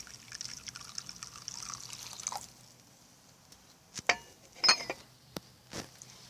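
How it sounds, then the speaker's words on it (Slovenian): Hot water pours and trickles over crushed coriander seeds in a cup: a short pour is followed by several separate drips and splashes, close and clear, with no voices. "In potem samo prelijemo semena za vročo vodo."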